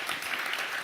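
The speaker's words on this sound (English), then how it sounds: "Let's give John a round of applause" An audience gives a guest a round of applause at an interview event, with bright continuous clapping that fills the whole short moment.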